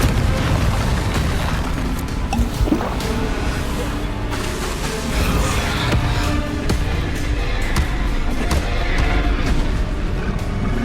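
Bombarda and Confringo spells burst in Hogwarts Legacy combat, a loud run of booming explosions and sharp pops layered over continuous rumbling battle noise with no pause.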